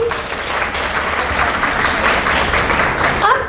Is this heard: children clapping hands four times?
yes